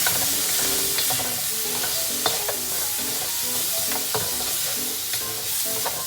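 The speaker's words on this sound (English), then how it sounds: "Now I'm adding in about 2 tablespoons of butter. And again, I want to get it blended around." Butter being stirred into pork frying in a pan makes a loud continuous sizzle, broken by repeated scraping and clacking strokes of the utensil, close by with no voices.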